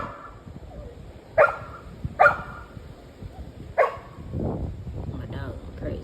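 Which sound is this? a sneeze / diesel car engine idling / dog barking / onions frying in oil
dog barking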